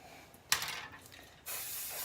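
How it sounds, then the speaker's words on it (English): Hairspray hisses onto back-combed hair in two short bursts, the second continuing to the end, close and crisp. "a little spray"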